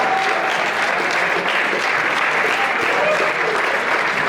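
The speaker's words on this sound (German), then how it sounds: "Nochmal herzlichen Applaus, danke vielmals." Sustained applause from an audience at a Swiss folk music choir's tenth-anniversary concert, dense and steady throughout with no pauses, close and loud, with no voices rising above it.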